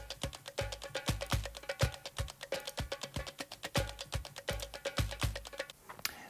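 Layered percussion samples of kayon, woodblock, djembe and clap play together in a busy, steady groove, with sharp bright clicks over deep thumping hits and no voices.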